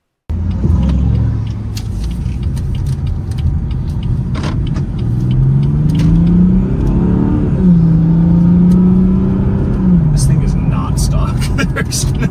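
A 100k-mile BMW 340i with a suspected untuned cat delete accelerates, its engine rumbling and droning upward in pitch, then easing and rising again, loud and close inside the car for several seconds.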